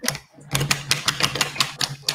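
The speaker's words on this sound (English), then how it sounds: "It makes a cool clicking sound" A LEGO Monkie Kid Pigsy's Noodle Tank set (80026) gives off a rapid run of crisp plastic clicks, close and fairly loud, in an uneven ratcheting rhythm under a faint steady hum.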